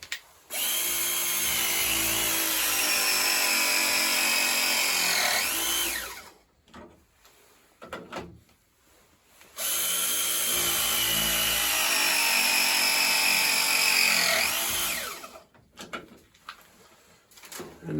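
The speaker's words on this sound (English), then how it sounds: "let's get our press machine, which is right here. This is the Milwaukee M12 Force Logic." A Milwaukee M12 Force Logic press tool crimps a pipe fitting during a plumbing hot-water job. Two long, loud, steady motor runs of about six seconds each end with a pitch drop as the jaws close, separated by quiet handling noises.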